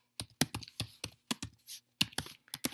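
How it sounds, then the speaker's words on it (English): Fast, uneven clicking of keys on a computer keyboard, close and fairly quiet, in quick irregular bursts with no talk. "Now I will type SWI prolog, then go into the prolog model"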